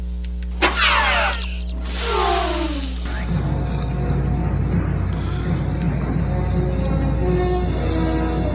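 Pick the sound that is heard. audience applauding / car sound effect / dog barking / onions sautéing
car sound effect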